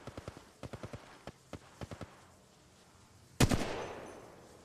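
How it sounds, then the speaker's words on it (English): Gunfire in Apex Legends Mobile: a string of sharp, evenly spaced single shots, then a heavier, louder blast whose roar trails off slowly. "Getting shot at."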